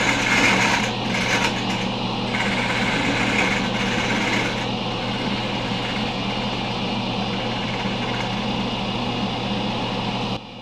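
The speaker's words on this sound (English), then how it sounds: "So I switched to a carbide detail gouge." A carbide detail gouge cuts a black walnut salad bowl on a wood lathe, giving a steady, continuous whirring and scraping drone that stays level and fairly loud throughout.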